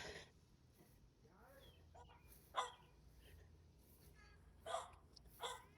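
Faint, muffled barks from a dog indoors some distance away at a campground, three or four short yips scattered over steady background noise.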